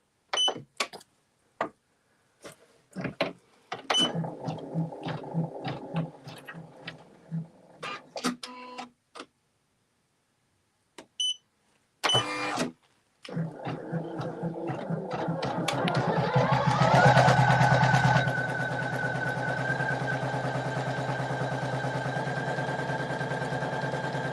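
An embroidery machine stitches a tack-down pass on glitter puff vinyl, starting after scattered clicks and a pause, then running as a steady, loud, continuous mechanical hum with a rhythmic needle drive near the end.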